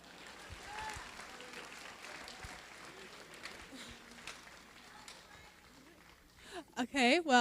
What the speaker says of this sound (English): can we get a round of applause for those people for putting up with me?